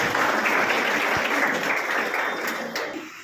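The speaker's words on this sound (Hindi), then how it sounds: "एक बार तालियों से उनका फिर से स्वागत किया जाए।" A crowd claps steadily in a dense, sustained burst of applause that begins to fade toward the end.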